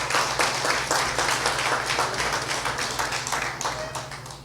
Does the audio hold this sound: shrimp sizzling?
no